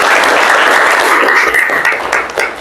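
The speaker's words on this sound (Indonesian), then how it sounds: "Oke, tepuk tangan dulu untuk Aidil." A classroom of students claps for a classmate named Aidil, a loud, dense, steady round of applause that goes on without a break and thins a little toward the end.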